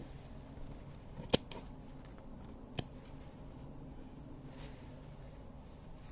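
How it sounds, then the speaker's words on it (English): Scissors snip through fabric while a mouth opening is cut into a scarecrow mask. Two sharp, isolated clicks sound close by against a quiet room, with no talking. "So I'm just going to snip open a little bit for the mouth."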